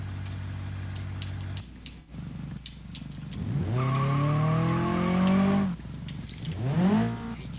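A Diana Type LS car with manual transmission driving in BeamNG.drive: engine idles, then revs climb in rising tonal sweeps through gear changes, loud and close, with a brief dip midway.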